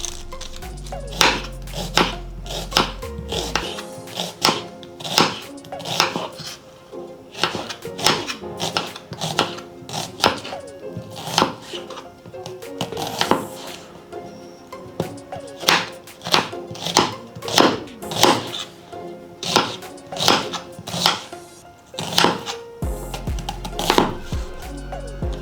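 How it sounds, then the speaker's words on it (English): Onions are chopped with a knife on a cutting board for a seafood boil: a quick, steady run of sharp, close chops, pausing briefly now and then, over soft background music. "So let's quickly chop up these onions."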